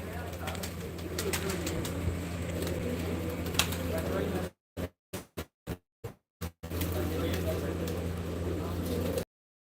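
Pigeons kept by a pigeon fancier coo and flutter nearby alongside human voices, the steady sound broken in the middle by a run of short clipped bursts and silent gaps.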